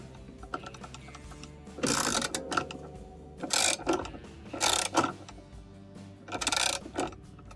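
A ratchet cranks the transmission bolt down on a KitchenAid washing machine agitator, producing several bursts of close, rapid clicking separated by short pauses, with no talk.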